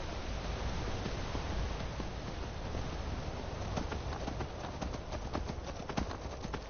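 Horse hooves pound steadily in Skyrim, a rapid clip-clop of a galloping mount carried over a dense, continuous bed of game ambience, with the footfalls growing more distinct toward the end.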